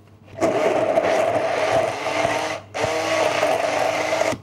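Blender puréeing parsnip soup with feta and liquid cream, two loud whirring bursts close up with a brief pause between them, no speech.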